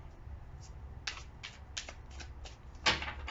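Tarot cards being shuffled by hand, a series of short crisp riffling bursts with one louder flurry near the end, close and fairly quiet, no voice.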